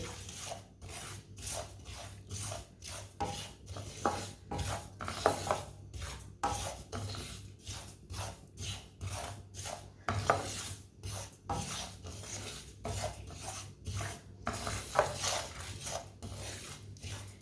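A spoon scrapes and rasps around a pan in steady repeated strokes while two ingredients are lightly browned for a Punjabi winter recipe, close and continuous with no talking.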